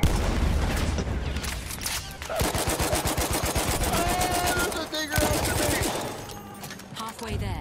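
Loud, sustained video game gunfire rattles in rapid machine-gun bursts, dense and continuous with brief gaps, under heavy battle noise.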